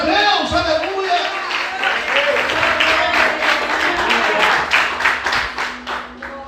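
A church congregation applauds during a Portuguese-language service, a dense wash of clapping that swells and carries on steadily, with a preacher speaking over it.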